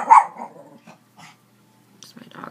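A pet dog gives a short, close bark followed by a few softer grumbles and whimpers, then a brief pause before faint noises return.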